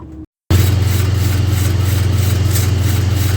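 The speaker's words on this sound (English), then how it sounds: "You can hear the funny noise. This brake rotor is just touching the backing plate over here." A steady, loud, close engine hum from a 2003 Dodge RAM 3500 with a brake rotor rubbing its backing plate, giving a rhythmic pulsing scrape over the drone after a brief dropout at the start.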